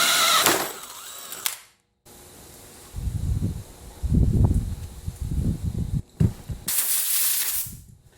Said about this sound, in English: I'll just drill holes in this steel tubing and I'll tap the holes.